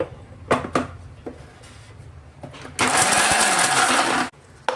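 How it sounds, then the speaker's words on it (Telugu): A mixer grinder grinding almonds roars into a loud, steady whir for a couple of seconds, then cuts off abruptly, preceded by a few clicks and handling knocks. "ఇప్పుడు ఇది మిక్సీ పట్టుకుందాం"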